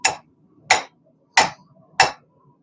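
Four-pound hammer striking hot steel on an anvil while forging throwing knives, four loud sharp clangs at an even, unhurried rhythm, each ringing briefly into near silence.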